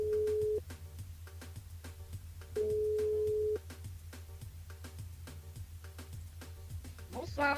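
A busy-signal style telephone line tone rings out in two steady, loud beeps while calling a listener named Catherine into a live French radio call-in show, with studio background sounds and short clicks between them.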